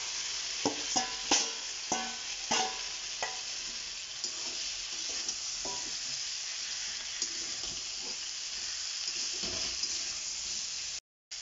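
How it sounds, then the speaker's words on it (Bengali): Potatoes tossed with spices in a pan, sizzling steadily, with a spoon scraping and stirring now and then in short clattering bursts; close and fairly quiet, with no talking. "এবার আলু কটাকে দিয়ে কষিয়ে নেব।"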